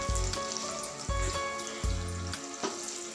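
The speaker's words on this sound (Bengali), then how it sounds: "এই যে আমি একটু অল্প আঁচে ভেজে নিচ্ছি, তাতে করে এটা ক্রিস্পি হবে।" French fries frying in oil over low heat, giving off a steady close sizzle with a few clattering stirs and scrapes.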